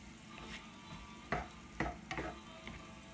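Food rendering and cooking down in a pan sizzles faintly and steadily, with a few sharp clinks and scrapes of a utensil against the pan.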